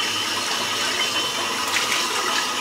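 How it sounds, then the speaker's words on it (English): A shaving brush is rinsed under a running tap, a steady close rush of water splashing continuously for a few seconds without talk. "while I'm rinsing the brush out"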